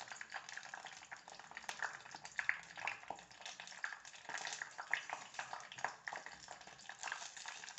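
Castor oil mixed with other oils boiling in a pan with onion and fenugreek leaves, a steady crackling sizzle with scattered sharp pops throughout, heard alone.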